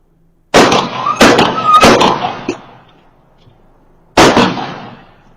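Gunshots heard in a played-back recording: three sharp, loud bangs in quick uneven succession, then a short silence and a fourth bang, each with a brief echoing tail and no talking.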